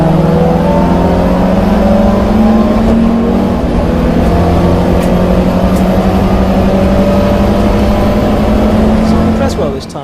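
Racing cars in the 750 Motor Club Alfa Romeo Championship at Snetterton, with Lancia Delta entries, accelerate with loud, sustained engine drones that rise in pitch, a commentator talking over them.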